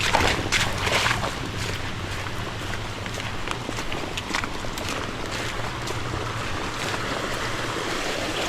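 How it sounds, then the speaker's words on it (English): Rainwater rushes steadily through a roadside ditch after heavy rain, a continuous broadband wash of flowing water with no clear pauses, close and fairly loud throughout. "with how much water is flowing in the ditch"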